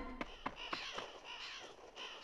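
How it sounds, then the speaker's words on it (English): Crows caw in Fire Emblem: Awakening, a few sharp, distinct calls in quick succession at the start, then a fainter flock-like chatter under game music. "What's that? A storm of... Crows?"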